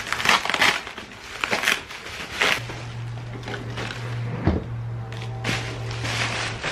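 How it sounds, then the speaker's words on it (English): Packaging for JDM car parts shipped from Japan crinkles and tears in close, loud bursts of rustling, with a low steady hum running underneath. "Unwrap the second one."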